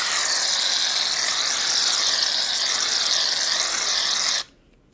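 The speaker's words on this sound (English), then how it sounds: "The first thing I'm going to do is shake up my shaving foam, and then I'm going to make some little strips." A can of shaving foam shaken and sprayed: a steady, loud hissing rush lasting several seconds close by, then cutting off abruptly into near silence.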